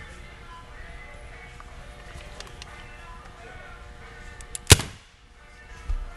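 An Azodin Blitz 4 paintball gun fires a reusable reball: one sharp, loud pop near the end, after a quiet stretch of low background hum.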